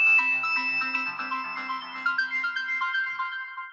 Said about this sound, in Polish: jest jeden sygnał na telefonie i to wszystko